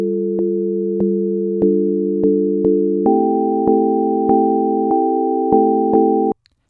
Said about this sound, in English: let's start off by taking a listen to the chords